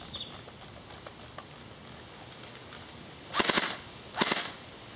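Two short bursts of rapid gunfire aimed at a watermelon ring out at close range, each lasting about half a second, with faint ticking and scattered taps between them.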